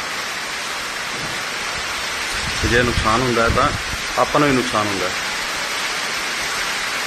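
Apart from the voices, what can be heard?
heavy rain in Abohar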